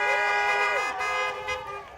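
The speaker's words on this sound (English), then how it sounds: "If you're happy and you know it, honk your horn." Car horns honk in a loud, sustained, overlapping blare at an outdoor fashion runway event in Miami, the tones shifting and wavering across the whole stretch.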